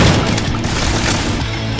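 Weapons fire hard and nonstop in the Doom Project Brutality game mod, a dense, loud barrage of booming shots with no clear gaps.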